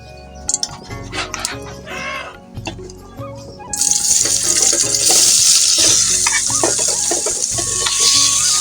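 Marinated beef set in a karahi on the stove, quiet at first with clicks and handling noise, then a loud, steady sizzle bursts in and continues close up.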